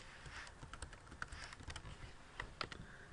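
Computer keyboard typing in quick irregular bursts of crisp key clicks, close and quiet, a few slightly sharper taps standing out, no voices.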